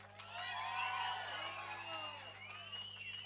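Audience at a village drama performance, a Valli Thirumanam play, cheering and whooping, with loud overlapping shouts and whistles. The crowd noise stays close and full throughout, over a steady low hum.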